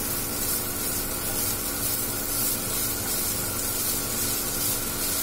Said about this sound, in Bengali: পনিরটা দেওয়ার পরে আমি এটাকে ভালো করে ফ্রাই করে নিচ্ছি।